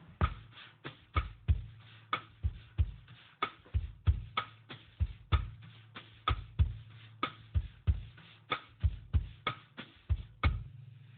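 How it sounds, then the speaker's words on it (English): A bossa nova drum rhythm played with a brush and a stick: steady, repeating sharp hits with a soft sweeping texture between them, close and moderately loud, continuing without talk. "sometimes you can play it with a brush and a stick"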